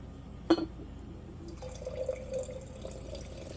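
Homemade chicken stock pours into glass canning jars: a faint liquid trickle and fill sound after a sharp glass clink at the start, quiet and close against a hushed room.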